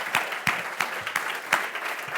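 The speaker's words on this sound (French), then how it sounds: "on applaudit" A studio audience claps steadily on a television talk show, a light, fairly distant patter of applause with no voices over it.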